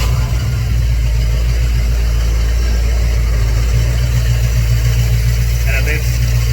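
A jet ski engine runs steadily on aero start in a garage, a loud, constant low droning idle with slight rhythmic pulsing, while someone talks over it.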